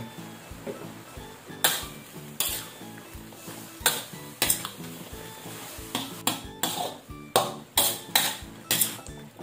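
Broccoli is tossed into beef simmering in sauce and stirred in a pan, with a utensil clanking sharply against the metal in an uneven rhythm over a low bubbling sizzle.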